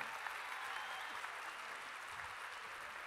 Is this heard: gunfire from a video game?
no